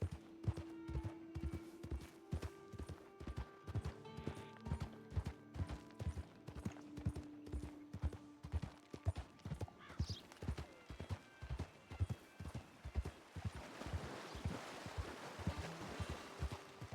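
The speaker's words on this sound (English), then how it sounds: "Horses." Horses trot in a video game, their hooves making a quiet, steady clip-clop rhythm throughout, with faint rushing water behind them.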